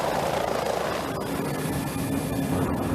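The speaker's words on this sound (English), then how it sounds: "Ships running the lanes early or late in the 6-month season are often supported by helicopters," A helicopter flies in support of ships working icy shipping lanes. Its steady, loud rotor and engine roar fills the whole stretch without interruption.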